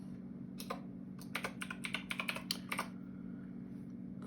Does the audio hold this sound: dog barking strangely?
no